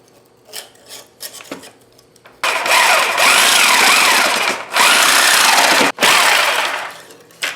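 A sword blade being finished by hand with a power tool: a few short scrapes and rasps, then a loud, close, sustained grinding cut broken by two brief pauses, each time resuming at full force.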